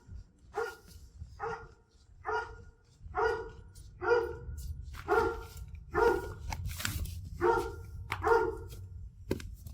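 Dogs behind a door bark repeatedly in a fast, agitated series, with several loud barks close by over a low, rumbling background of thumping and scuffling as they attack the door.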